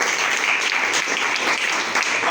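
Church congregation clapping during a sermon, a brief, dense burst of many hands applauding close by, with no talking over it.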